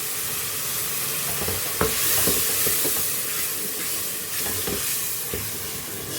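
Ground onion, tomato, ginger and garlic masala fries in hot oil with a steady close sizzle, broken by a few sharp scrapes and knocks from stirring, alone with no voices.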